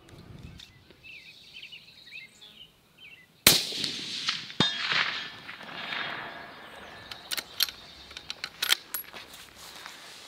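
A rifle round strikes a steel target at 300 yards on a shooting range, a single sharp, loud crack followed by a ringing metallic clang, then scattered lighter pings and rustling nearby.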